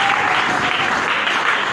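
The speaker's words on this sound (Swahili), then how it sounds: "Piga makofi hata kidogo basi" Audience applause at a church sermon, a steady dense patter of many hands clapping throughout, fairly loud and even with no breaks.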